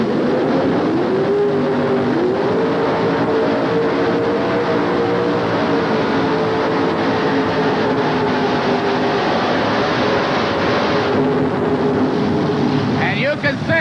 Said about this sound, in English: In dragster tractor pulling, he's going to light her up. Turn it loose.